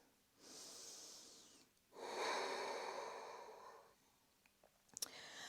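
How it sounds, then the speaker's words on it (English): Deep, slow breaths in a vinyasa yoga flow: a long airy inhale, a short pause, then a fuller, louder exhale, close and clear with no talking. "Taking 2 more breaths."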